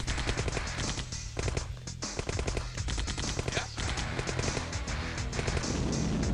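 Rapid bursts of gunfire in the video game Command & Conquer crackle loudly and continuously, with heavy impacts and a blast-like rumble as a jeep is destroyed amid the chaos.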